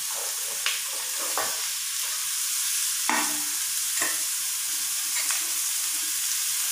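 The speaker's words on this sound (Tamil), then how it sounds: "சேர்த்துட்டு நல்லா எண்ணெயிலேயே 2 நிமிஷமாவது வதங்கணும்." Carrots, beans and peas sautéing in hot oil for vegetable biryani, a steady broad sizzle punctuated by a few sharp stirring scrapes and clinks, close and alone with no talk.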